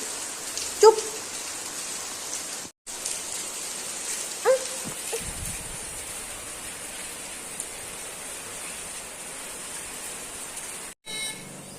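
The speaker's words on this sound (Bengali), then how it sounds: "আজকে তো একবারে এই বৃষ্টি পড়ছে" Heavy rain falls in a steady, even hiss that runs through the whole stretch, with a couple of short dog barks breaking through early on.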